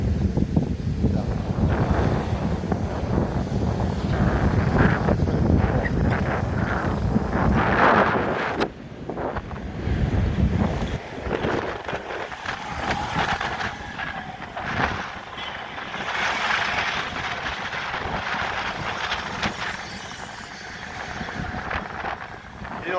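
Strong afternoon wind outdoors beside a hotel in Port Moresby, Papua New Guinea, roars and buffets the microphone throughout in a loud, steady rush, with some faint voices mixed in.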